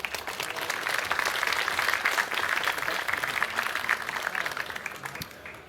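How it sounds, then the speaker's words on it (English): A large conference audience at a hacking congress claps for a speaker, a moderately loud, steady wash of applause that swells slightly and then trails off near the end. "Give Daniel a warm round of applause"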